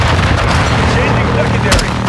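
Air support strike in Call of Duty: Modern Warfare II, a loud, continuous rumble of booming explosions and gunfire filling the whole moment, with a sharp crack near the end.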